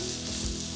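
Capsicum and napa cabbage sauté in a pan for Asian-style chicken noodles, giving a brief, steady close-up sizzle with no voices.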